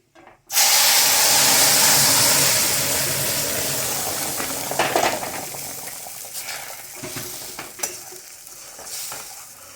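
Boiled masoor dal hits a hot spiced tempering with a loud, sudden burst of sizzling and hissing steam. The sizzle slowly fades, broken by occasional stirring clatter.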